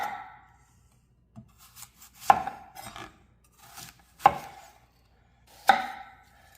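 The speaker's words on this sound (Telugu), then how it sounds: "కట్ చేస్తున్నది యాపిల్ అంతే." A knife cuts through an apple with a few crisp, separate chops at irregular intervals, close and fairly quiet, with faint scraping between strokes in a home kitchen.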